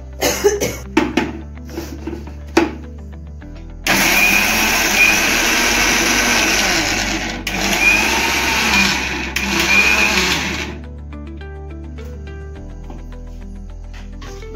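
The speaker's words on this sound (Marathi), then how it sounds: "आता ते वाटून घेऊया मिक्सरमध्ये बारीक." A mixer grinder finely grinds roasted peanuts for sabudana vada, running as a loud, steady whirring roar for several seconds after brief clatter and handling knocks, then stopping.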